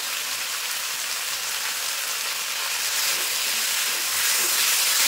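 Spices with ginger and green chili paste fry hard in a pan, giving a loud, continuous hissing sizzle that swells slightly toward the end, with no voices.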